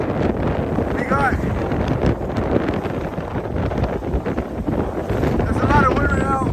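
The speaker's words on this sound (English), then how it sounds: "there's a lot of wind right now." Strong wind buffets the microphone on a fishing trip in rough weather, a constant loud roaring rumble throughout, with faint voices and water noise beneath it.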